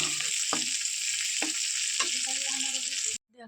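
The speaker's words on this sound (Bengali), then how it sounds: "আর এইদিকে আমি তেলের ওপরে একটু কাজু আর কিশমিশটা ভেজে নিচ্ছি।" Cashews and raisins frying in oil give a bright, steady sizzle with a few soft stirring knocks, close and unbroken until it cuts off abruptly near the end.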